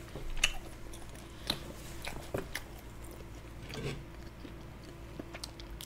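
Close, quiet bites and chewing while eating meat with cold naengmyeon noodles, a few crisp bite clicks and soft wet mastication at an irregular pace.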